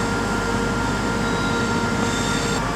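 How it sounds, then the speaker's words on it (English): A West Midlands Railway class 323 electric train arrives at a platform at Birmingham New Street, a steady loud rumble of wheels and motors with faint squealing tones, continuous throughout. "now coming in is a West Midlands Railway 323 service bound for Bromsgrove from Litchfield, Trent Valley"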